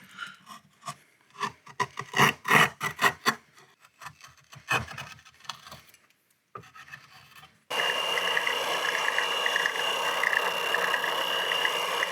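A rasp shapes the wooden neck of a handmade guitar in a burst of rapid rough scraping strokes, then quieter, scattered strokes and a pause, followed by a steady, louder droning grind to the end.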